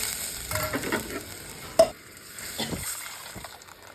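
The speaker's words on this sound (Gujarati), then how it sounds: "જીરું ઉમેરીશું, થોડી વાર મરચાંને સાતળવા દઈશું." Chillies sautéing with cumin in hot oil, a soft sizzle under a few stirring scrapes and one sharp clink of a spoon, fairly quiet and with no talk.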